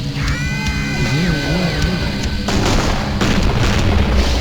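A booming explosion in the game Killing Floor over layered electronic chimes and tones, growing into a dense, roaring blast midway through.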